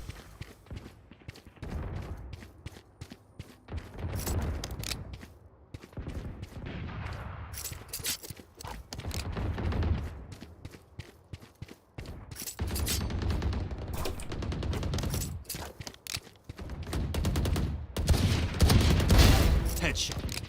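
Rapid bursts of gunfire from a competitive online shooter match, with repeated volleys and single shots spread across the whole stretch, loud and close, with people talking over the action.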